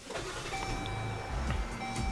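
Electric power windows of a family van whirring as they move, a sustained motor hum with a higher mechanical whine lasting a couple of seconds, close and steady inside the cabin.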